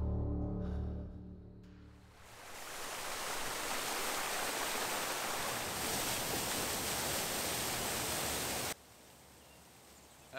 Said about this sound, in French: parce qu'il y a une cascade par là